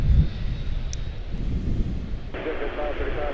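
An airliner departs Charlotte-Douglas airport, its engine roar a steady wash that swells slightly louder near the end, heard from a distance amid wind.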